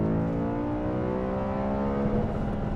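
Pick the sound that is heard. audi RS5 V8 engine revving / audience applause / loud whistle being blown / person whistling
audi RS5 V8 engine revving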